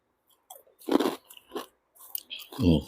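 Crunchy Thai chili paste with crispy pork rinds is bitten and chewed close up in several loud crunching bursts separated by short silences.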